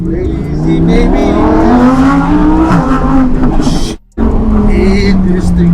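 A matte white Lamborghini STO sports car drives fast, its engine note steady and loud with rising and falling harmonic tones, briefly cutting out near the end as if shifting, and voices talking over it.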